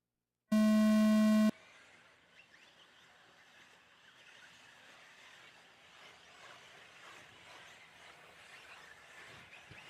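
A single loud electronic race start tone lasting about a second, then the distant whine and buzz of 1/8 scale electric off-road buggies continuing steadily.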